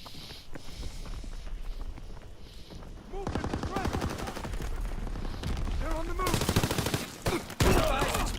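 Enemy gunfire in Call of Duty: WWII crackles in rapid, dense bursts of automatic fire, getting louder and more continuous partway through, with sharp single shots near the end.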